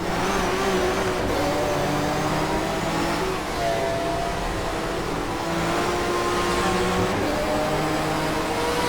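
A touring car engine in sixth gear in the racing game GTR2 on the back straight at Diepholz, a loud sustained drone that climbs and falls in pitch, with no talking.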